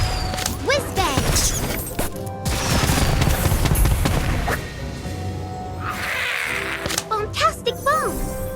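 The Whiz-Bang firework spell in the game Harry Potter: Magic Awakened goes off as a dense run of crackling bursts, booms and rising whistling chirps, loud and busy with other game effects throughout.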